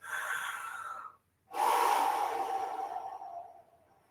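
Two slow, deep breaths are drawn close to the mic during a shiatsu energy exercise, an inhale and a longer relaxed exhale separated by a short pause, soft and airy.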